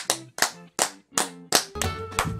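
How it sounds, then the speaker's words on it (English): Hands clapping in short separate bursts during a large unboxing session, a few quick sharp claps per burst with brief pauses between them, close and fairly loud, and the final burst runs longer and denser. "Let's clap for boxes!"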